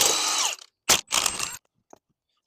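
Power ratchet on a 19mm lug nut of a Subaru Outback rear wheel, a loud buzzing burst followed by two shorter bursts, then near silence with a faint click.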